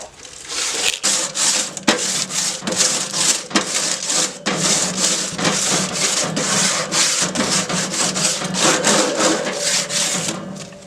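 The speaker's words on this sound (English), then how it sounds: "For me, I just use a ball of tin foil. So that works best to scrape these grates after a long cook." A ball of tin foil scraped briskly back and forth across grill grates on a Traeger pellet grill after a brisket cook, a rapid rhythmic rasping with dense repeated strokes, close and loud, no talk.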